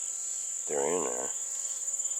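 A bee buzzes close by near passion fruit flowers, a brief wavering hum lasting under a second against a steady high-pitched insect drone in the background.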